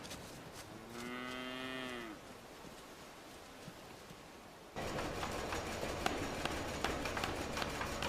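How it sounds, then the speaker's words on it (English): A cow gives one long, close moo about a second long, then a quieter stretch follows before busier farmyard noise with knocks and shuffling picks up. "She's a cow."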